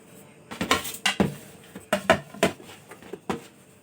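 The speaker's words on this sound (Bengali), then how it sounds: "এবার আমি বাটির থেকে বের করে নেব। একদম ছেড়ে আসছে বাটির থেকে।" Steamed tea cake being loosened and lifted out of a metal bowl in a kitchen: a series of quick clinks and scrapes of utensil against the bowl, irregular and close.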